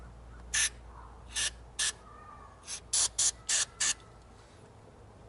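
Carb cleaner sprayed into the throttle body of a Subaru Legacy: about seven sharp, hissing bursts of varying length, close and fairly loud, separated by quiet pauses.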